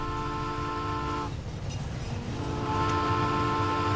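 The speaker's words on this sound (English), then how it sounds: "There's a train." A train passes in the video game My Summer Car. A loud, sustained chord-like horn blares over a steady rumble, cuts out briefly midway, then resumes.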